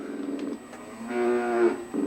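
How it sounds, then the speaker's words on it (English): A cow in the Sega Genesis driving game Hard Drivin gives two short synthesized moos, the second longer and wavering, clear and alone with nothing else heard. "you could run into a fucking cow"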